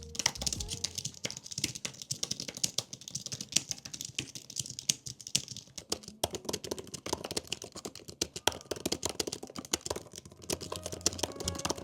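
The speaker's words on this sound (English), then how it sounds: "I can type relatively accurately even without looking at my keyboard" Continuous typing on an Apple Magic Keyboard, a steady patter of soft, close key clicks with uneven rhythm running throughout, with no talk.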